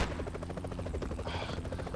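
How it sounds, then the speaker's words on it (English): Helicopter rotor chopping in the Broforce Expendabros video game, a steady rhythmic thudding throughout, mixed with game effects and a brief higher buzz near the end. "Oh, that's the helicopter."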